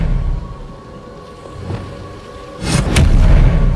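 A spell-casting burst from the Hogwarts Legacy video game, the Expelliarmus disarming charm, erupts as a loud crackling blast with a booming tail after a stretch of low, rumbling game ambience.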